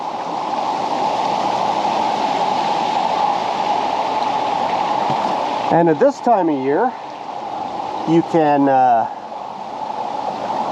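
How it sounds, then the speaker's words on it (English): A creek with low water runs steadily in Renfrew County, Ontario, giving a continuous broad rushing wash throughout, with a voice speaking briefly over it partway through. "I sort of knew there was a creek here, but I didn't know it was so beautiful"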